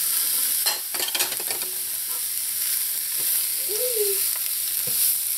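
Chayote squash and sweet peppers being stir-fried for chow mein, a steady bright sizzle with scraping utensil clicks and tosses near the start, continuing alone without talk.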